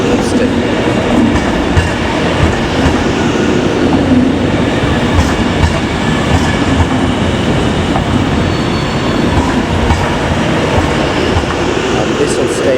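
A Class 390 train at Glasgow Central station makes a loud, steady rumble and whine with constant low-frequency roar that fills the whole stretch, over busy station ambience.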